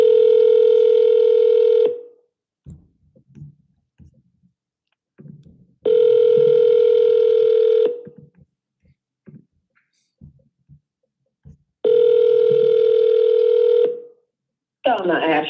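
Outgoing phone ringback tone on a repeated call, three long steady tones about two seconds each separated by silent gaps with faint murmurs, ending in a brief burst of a voice.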